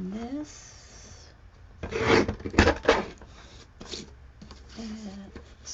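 Old art journal paper scraps being trimmed close by, with scratchy cutting and rustling in short bursts and a voice talking faintly in between.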